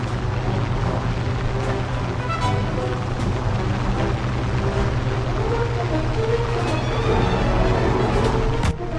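German attack aircraft in War Thunder Mobile drones along with a steady engine hum for several seconds, a game soundtrack droning under a voice speaking.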